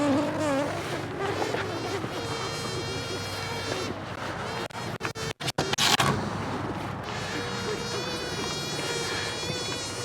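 A swarm of honeybees carried in a garden cart gives off a dense, steady buzzing drone that briefly cuts out midway before resuming at full strength.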